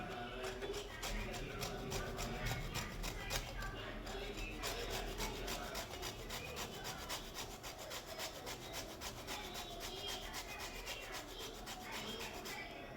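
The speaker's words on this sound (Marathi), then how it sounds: "लिंबूचं वरचं जे साल आहे हे ते थोडंसं आपण किसून टाकणार आहोत किसणीने" Steady scraping of lemon peel against a kitchen grater for a drink, a continuous rapid rasping of close, even strokes that runs unbroken throughout with no speech.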